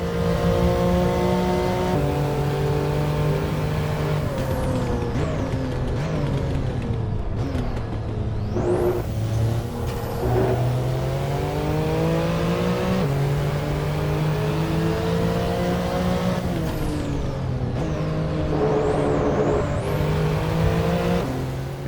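An 800hp TECHART 992 Turbo S in Assetto Corsa revs hard and continuously, engine pitch climbing through gears with sharp drops at shifts, loud and close for the whole stretch.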